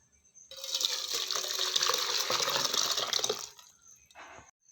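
Tomato rasam pours into a vessel in a steady liquid gush lasting about three seconds, close and clear, followed by a brief trickle and a small splash.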